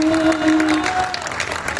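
Audience applause at a Hindi poetry gathering (kavi sammelan), a burst of crowd clapping with a sustained musical tone underneath that fades partway, fairly loud and steady.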